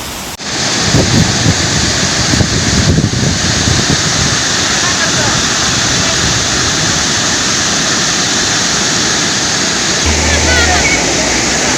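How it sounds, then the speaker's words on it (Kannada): Jari Falls, swollen with monsoon water in the Western Ghats hills of Chikkamagaluru, roars as a loud, constant broadband rush that continues without a break from start to finish. "ಜರಿ ಜಲಪಾತಗಳು ಜೀವಕಳೆ ಪಡೆದುಕೊಂಡಿವೆ"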